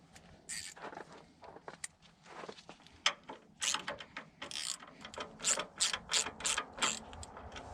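Ratchet wrench clicking in repeated short bursts while servicing a Thermo King Tripac APU, the sharp pawl clicks close and fairly loud with brief pauses between strokes.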